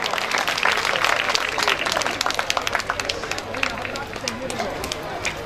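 Enthusiastic crowd clapping at a Hindu religious discourse gathering in Agra, loud and dense at first then thinning into scattered claps, with a voice talking over the noise.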